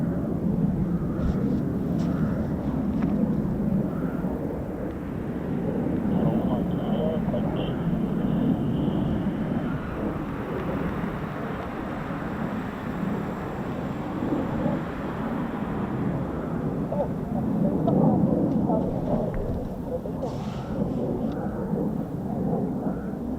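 F-35 stealth fighter jets of the 493rd Fighter Squadron fly overhead, making a continuous, distant rolling roar that swells and eases over twenty-odd seconds, with people talking faintly underneath.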